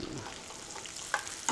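Onions frying in a pan as a pierogi garnish, a faint steady sizzle with a couple of sharp utensil clinks, no speech.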